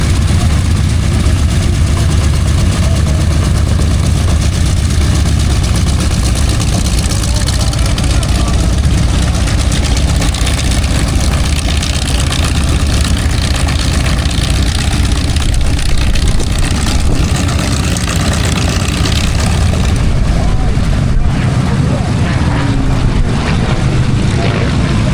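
A propeller airplane taxis at the EAA AirVenture Oshkosh fly-in, its engine a loud, continuous close-range drone throughout, with some voices underneath.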